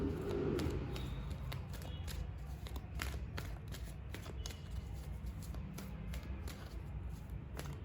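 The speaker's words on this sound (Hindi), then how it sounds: "आइए निकालते हैं कुछ और कार्ड्स और जानते हैं इनके बारे में कुछ और डिटेल।" Tarot cards shuffled and drawn from a deck, a soft papery riffle followed by a string of quick, close snaps and flicks as cards are pulled, fairly quiet.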